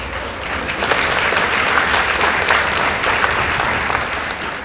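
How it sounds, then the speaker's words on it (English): A school debate audience gives a round of applause for the Kiambaa Mixed Secondary and Alliance High School teams, a loud, continuous burst of many hands clapping with no talk over it. "Let's give them a round of applause."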